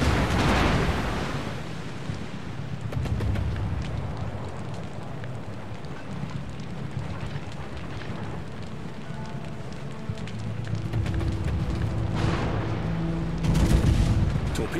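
Battleship Vladivostok's main guns firing in World of Warships, deep booming blasts and a rumbling roar that stays loud and dense throughout, with brief faint voice callouts.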